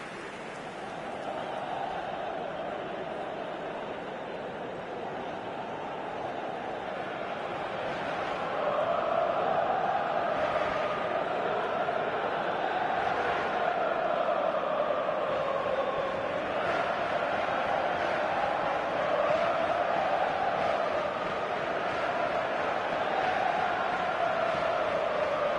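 Stadium crowd roar in the eFootball video game, a steady dense wash of cheering voices that swells louder about a third of the way in and holds, filling the whole stretch without breaks.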